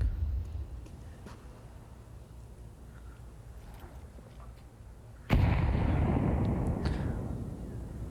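A grenade bursts during a competitive esports match, a sudden loud blast that cuts through quieter background game noise and then rumbles and fades over several seconds.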